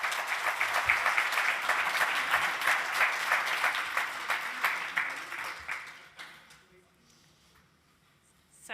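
Conference audience applause at a retina research Q&A: a steady wash of many hands clapping for about six seconds, then fading quickly into quiet room tone with faint stray sounds.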